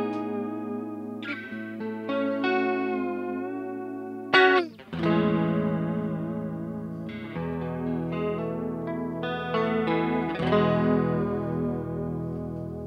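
Electric guitar played through a NUX CH-3 chorus pedal, sustained notes and chords with a shimmering, wavering chorus tone, a brief scrape mid-way, loud and upfront with no talking.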